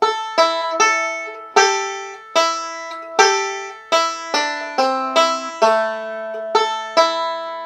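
A banjo plays a quick picked melody, bright plucked notes in short bursts with brief gaps, close and clear with no voices.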